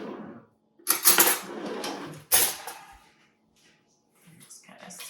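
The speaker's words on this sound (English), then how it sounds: "I'm gonna get a spoon." A metal spoon is pulled out and clinks against other cutlery and utensils in a kitchen, in two short, bright bursts of rattling separated by quieter stretches.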